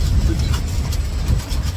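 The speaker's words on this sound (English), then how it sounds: "a train with no cars on it" A lone train locomotive without any cars rolls past, giving a steady low rumble with a faint rhythmic clatter, heard from a moderate distance outdoors.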